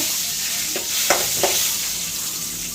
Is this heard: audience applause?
no